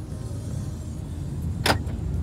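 Taxi interior riding through Dubai traffic: a steady low engine and road hum fills the cabin, broken by a short sharp click or rattle partway through.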